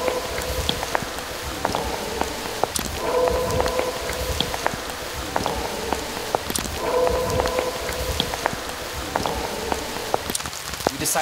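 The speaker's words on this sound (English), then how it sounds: "it started to literally downpour rain" Heavy rain pours down in a forest, a dense steady hiss of drops on leaves and ground with scattered sharper splats and faint tonal calls in the background, no voices.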